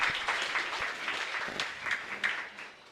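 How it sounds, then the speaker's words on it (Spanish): Applause from a congregation inside a chapel, a dense continuous patter of many hands clapping at moderate distance, steady and fairly soft with a few louder individual claps standing out. "Un fuerte aplauso para el Señor."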